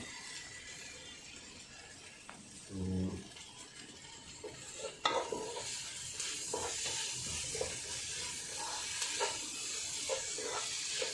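Chicken masala with Kashmiri chilli being stirred in a pan for a chicken varattu, a soft sizzle under repeated spoon scrapes and clinks, with a brief low thump early on.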